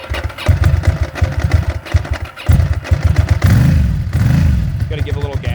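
A 2008 Ducati S2R1000 with a dry clutch, still cold, fires up and revs in uneven bursts of throttle, a loud close rumble that rises and falls, with a voice talking briefly alongside.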